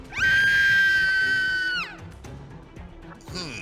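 A human voice imitates a creature shrieking like a banshee during a tabletop role-playing game session, one loud sustained high-pitched scream held for about one and a half seconds, then tailing off into brief vocal noises.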